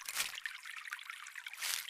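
Soft water trickling and falling in a quiet natural setting, a gentle steady dribble throughout with slightly fuller splashy bursts at the start and end, faint and continuous with no voices.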